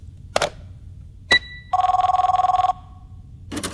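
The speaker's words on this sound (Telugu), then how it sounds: "అది ఫోన్ కాదు, ఫ్యాక్స్." An office fax machine rings, sounding like a telephone: a single pulsing electronic ring lasting about a second, set between sharp knocks and clunks, with no voices.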